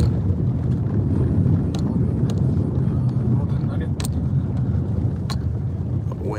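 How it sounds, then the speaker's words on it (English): Wind blowing during a blizzard in South Lake Tahoe, a loud steady low roar buffeting the microphone, with a few sharp clicks scattered through it. "The wind is blowing."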